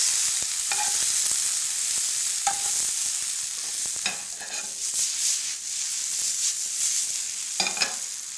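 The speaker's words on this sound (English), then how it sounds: "turn them around in the pan just so they heat through and mix with all the vegetables" Egg noodles tossed with vegetables in a hot pan, a bright hiss of frying with repeated clattering stir scrapes coming in bursts.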